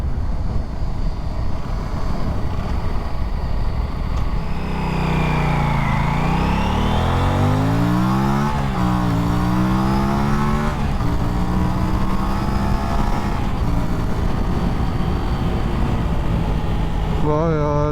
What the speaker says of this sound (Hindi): this bike just goes to 100 like in 4 seconds or 5 seconds